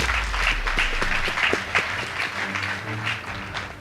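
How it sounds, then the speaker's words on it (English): An audience at a school debate competition between two high schools applauds, a steady mid-distance ripple of many hands clapping with no talk over it. "Please give them a round of applause."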